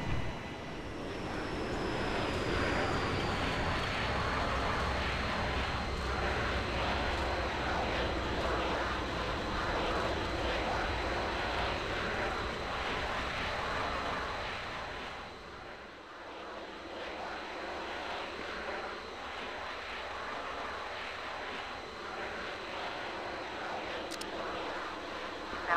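A Czech-built L-39C Albatros jet trainer's engine in Flight Simulator X drones steadily and loud for the whole stretch, its broad roar dipping and shifting briefly near the midpoint before settling back into a constant whine.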